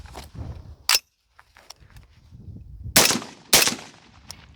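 Rifle fired with a DeadAir Wolfman suppressor: four or five sharp, loud cracks come at irregular intervals, two of them close together near the end, with quieter handling noise in between.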